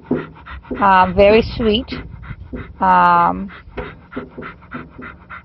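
A happy dog pants in rhythmic bursts close by, with loud whimpering, yipping vocal sounds rising over it, while people talk nearby in a home setting.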